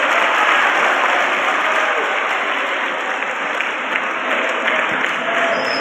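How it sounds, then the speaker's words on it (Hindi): Sustained applause from an audience at a college career counselling event, dense and steady throughout, filling the room without a break. "एक बार जोरदार ताली बजा सकते हैं।"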